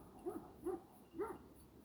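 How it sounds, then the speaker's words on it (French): Pet dogs out on a walk bark three times in quick succession, fairly faint and a little distant, with no talking during the barks. "On sait pas après quoi ils aboient."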